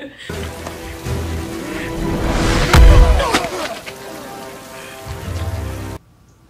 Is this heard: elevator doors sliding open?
no